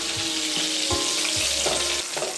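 Curry leaves and green chilli fry in oil for a spicy raw rasam, giving a close, lively sizzle and spatter with scraping stirs and a low hum underneath.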